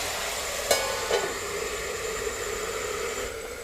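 Fiddlehead ferns fry in a pan with turmeric while being stirred, giving a steady hissing sizzle with a couple of soft scrape-and-clink accents near the start; no talking.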